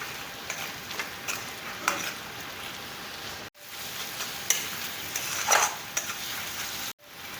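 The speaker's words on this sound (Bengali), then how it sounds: "সব মশলাগুলি এবার ভালো করে মিক্স করে নেব।" Spices with salt and sugar stirred and frying in oil in a pan, a soft continuous sizzle broken by scraping stirs and small crackles, close and fairly quiet.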